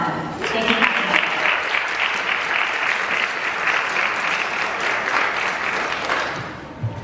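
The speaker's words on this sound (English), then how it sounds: "I'd like us to give a huge round of applause to Shahana Ahmed." An audience at a Guyana Independence Day event claps for Shahana Ahmed, a dense, sustained round of applause that rises quickly, holds steady for several seconds and then fades.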